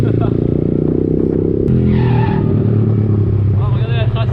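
A vehicle does a burnout and smokes its tyres, with the engine revving hard and the rubber squealing in loud surges. Voices talk over the noise.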